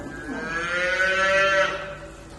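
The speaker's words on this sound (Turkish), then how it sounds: "orada da bir tane ufak buzağı var" A small calf among cattle gives a single drawn-out moo, rising and then falling away, close and clear over a quiet farmyard background.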